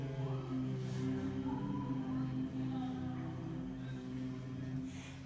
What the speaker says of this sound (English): as you exhale, you're going to hum in the lowest point of your body